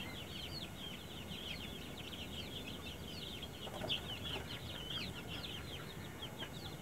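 Young one-month-old joper chickens in a poultry pen give a steady stream of soft, high peeping and clucking calls, fairly faint and continuous over a low background rumble.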